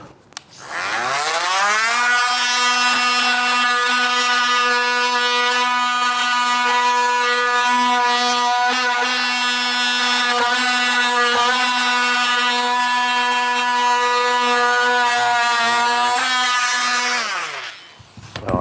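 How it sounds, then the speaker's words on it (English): Oscillating saw fitted with a bimetal blade cutting through vinyl plank flooring, a steady, loud, buzzing whine held almost continuously for about fifteen seconds before winding down, with no talk. "Now I'm using an oscillating saw here, and I have a bimetal blade on here."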